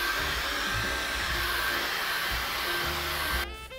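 A hair dryer blows steadily over a freshly painted acrylic canvas, a constant loud whirring hum with a whine that cuts out abruptly near the end.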